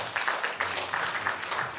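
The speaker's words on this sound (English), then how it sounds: "Let's give ourselves a big clap." A conference audience at an HR event in Kumasi applauds briefly, with steady dense clapping that fills the room for under two seconds.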